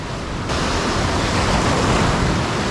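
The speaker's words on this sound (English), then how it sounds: "Big wave!" Ocean waves crash loudly and continuously, a roaring surge of surf and wind close by with no voices.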